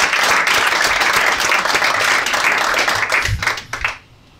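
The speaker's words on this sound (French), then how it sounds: "Ok, on peut l'applaudir." A theatre audience at a comedy show applauds, a dense, loud, sustained round of clapping that thins out and stops abruptly near the end.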